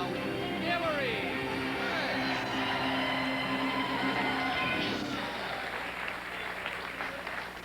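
A studio audience at the Nashville Now show, broadcast live from Opryland USA, keeps up steady applause, with the host's voice and band music mixed underneath.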